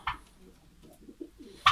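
Pigeons at a nest give soft, low cooing phrases, faint and close, with a brief rustle or flutter at the start and a sharper bird sound at the very end.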